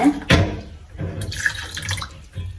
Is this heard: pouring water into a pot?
yes